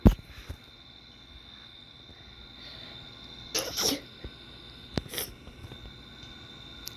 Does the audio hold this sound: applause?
no